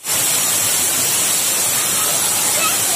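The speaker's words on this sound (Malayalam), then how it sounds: "ഇത് നല്ല ഹൈറ്റ് നിന്നാണ് വെള്ളം പോകുന്നത്" Karakkundu waterfall pours from a great height, producing a loud, close, unbroken roar of rushing and splashing water that starts abruptly and stays steady throughout.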